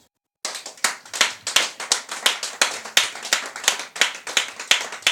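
A church congregation claps for the Lord Jesus after a short silence, bursts of applause in a steady, fairly quick rhythm, loud and close, with no voices over it.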